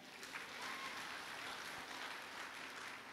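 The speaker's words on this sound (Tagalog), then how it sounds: "Palakpak po mo diha." A church congregation applauds during a Sunday worship service, a steady wash of many hands clapping at a fairly low, even level throughout.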